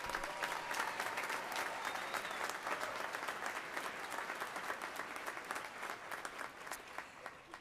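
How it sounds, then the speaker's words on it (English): A graduation ceremony audience gives a sustained round of applause for a volunteer brass band, dense even clapping from a large crowd that thins slightly toward the end. "So let's give them a round of applause"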